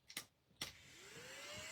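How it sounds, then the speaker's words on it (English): A small crafting vacuum for scraps and dimensional backings switches on after two quick clicks and spins up into a steady rising whir, close and fairly quiet, with no speech. "this vacuum. It is so cool."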